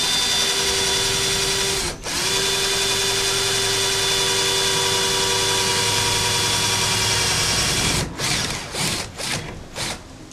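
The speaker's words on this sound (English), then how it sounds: "So I'm just going to go over about 1/8 of an inch and drill another hole." A power drill bores a hole through an aluminum awning gutter downspout, a loud, continuous high whine that cuts out briefly near two seconds, then resumes and ends in a few short, stuttering bursts.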